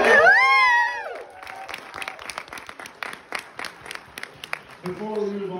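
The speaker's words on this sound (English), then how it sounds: "Another round of applause." Audience applause at a fan convention Q&A with the Monster Squad actors, clapping and scattered cheers rising after a loud burst of voices, with people talking and a voice returning at the end.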